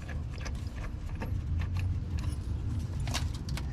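A bolt comes out of a 3rd-gen 4Runner engine near the harmonic balancer during a timing belt and water pump job, with scattered metallic clicks, rattles and tool clinks at close range.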